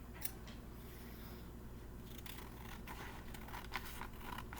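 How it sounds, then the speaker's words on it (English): Scissors snip through lined paper in a quiet room, a steady run of small crisp cuts and paper rustles at close range with no voices. "you only have to cut off a little tiny bit if you use lined paper"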